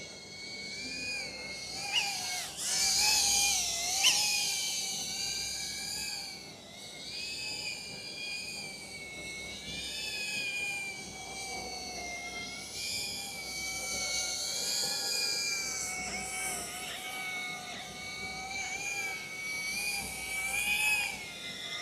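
A Pavo Femto 3-inch FPV drone whines steadily at high pitch as it flies, the propeller tone rising and falling with throttle changes, loud and close throughout before a rough landing.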